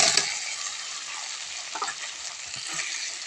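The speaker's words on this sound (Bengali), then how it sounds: "ভেজে রাখা আলু মশলা কষানোর মধ্যে দিয়ে দেব।" Fried potatoes go into a pan of spice masala cooked with dried chilli powder, giving a loud, steady sizzle from hot oil with occasional stirring scrapes, close and without voices.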